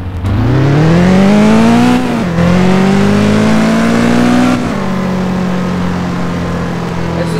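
Modded car engine in Test Drive Unlimited 2 revving up through the gears, a loud, close, smooth rising drone with a couple of quick shifts, then holding a steady high cruise.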